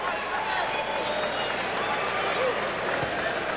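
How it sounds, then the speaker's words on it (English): Cleveland basketball arena crowd cheering Dennis Rodman's return during a 1997 Cavaliers–Bulls game, a steady broad roar filling the whole stretch, with a commentator talking over it. "Cleveland crowd enjoys Dennis Rodman's return."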